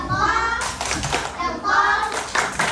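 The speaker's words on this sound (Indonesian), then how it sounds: "berikan tepuk good job untuk teman kelompok 5-nya karena sudah berani maju ke depan" A primary school class performs a rhythmic 'good job' clap for a classmate group, children's voices chanting over a couple of bursts of hand claps close by.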